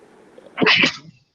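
A single sharp human sneeze bursts out close by after a faint breathy intake during a career interview about corporate banking, loud and brief, then stops into silence.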